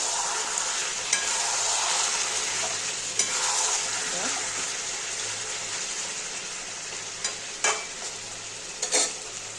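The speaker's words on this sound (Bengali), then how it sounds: "দেখো চিকেনটা একটু ঢেকে দিয়েছিলাম, আবার একটু নেড়ে দেবো।" Chicken pieces for a spicy Bengali chicken kosha stirred in a hot pan, a steady sizzle of frying with occasional sharp scrapes and clinks of the spoon against the pan, close and continuous.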